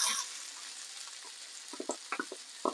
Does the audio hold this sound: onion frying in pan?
yes